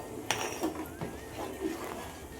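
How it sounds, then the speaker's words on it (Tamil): A spoon stirs boiling salted rice in a cooking pot for Dindigul thalappakatti biryani, giving a few faint, scattered clinks and scrapes against the metal in a quiet kitchen. "இப்போ சோறு கிண்டி விட்டுக்குருவோம்."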